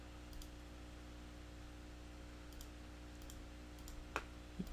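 Computer mouse clicking during careful image editing, a few faint, sharp, isolated clicks spaced irregularly over a steady low hum of room or fan noise, with one slightly louder click near the end.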